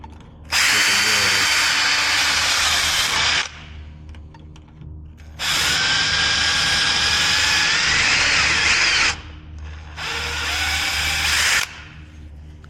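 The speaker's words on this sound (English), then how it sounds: "So now we just got to drill this head out." A power drill whines loudly in three long bursts, grinding through a metal rivet head on an L-19 Bird Dog aircraft, with short quiet pauses between.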